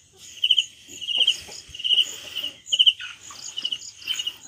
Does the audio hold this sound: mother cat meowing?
no